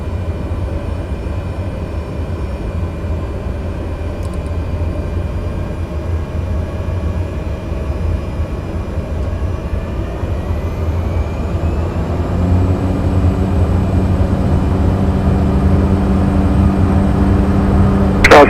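Airplane taking off in Microsoft Flight Simulator 2020, a steady loud engine roar that builds in intensity, with rising tones toward the end.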